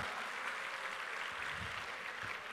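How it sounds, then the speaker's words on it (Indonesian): A comedy show crowd in Malang applauds a volunteer, giving a faint, steady patter of clapping throughout with no voices over it. "Boleh tepuk tangan untuk masnya mas."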